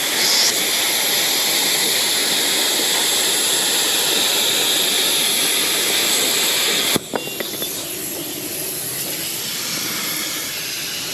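Cutting torch slicing through steel for a bucket patch panel, a loud steady roaring hiss that cuts off sharply near the end, followed by quieter crackling and sputtering.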